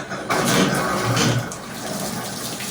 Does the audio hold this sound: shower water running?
yes